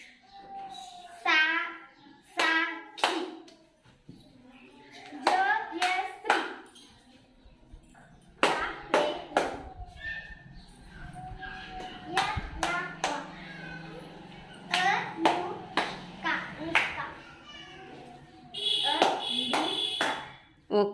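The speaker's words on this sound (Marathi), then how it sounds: "आपल्या नावातील जेवढी अक्षरं आहेत आपण टाळ्या वाजवलेत" Schoolchildren in a classroom language game clapping once for each syllable of their names, short bursts of claps alternating with a teacher's and children's voices.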